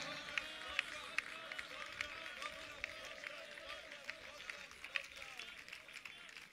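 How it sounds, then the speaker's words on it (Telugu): Church congregation clapping hands steadily during a worship service, a dense, fairly quiet patter of many hands with slight rhythmic accents, mixed with voices. "స్తోత్రాలు స్తోత్రాలు స్తోత్రాలు చెబుతూ చప్పట్లు కొట్టాలి."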